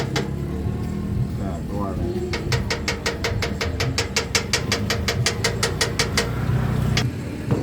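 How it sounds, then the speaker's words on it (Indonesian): A Hitachi diesel engine on an excavator dredging mud under a bridge runs close by, giving a rhythmic, chugging idle with evenly spaced knocking pulses and a mechanical rattle underneath. "Ini ya, mesin dari ekskavator pemirsa. Dia menggunakan mesin Hitachi."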